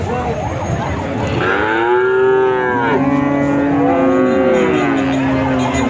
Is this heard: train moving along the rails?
no